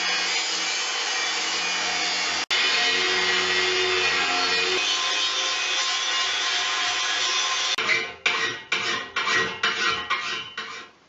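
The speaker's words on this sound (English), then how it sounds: "I intend to grind this off and maybe reshape the way the tip has been" Power grinder working the tip of a steel Manson anchor fluke: a steady loud whining grind for several seconds, then a string of short bursts as the tool is repeatedly pressed on and lifted off the metal.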